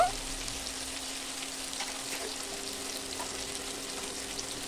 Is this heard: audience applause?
no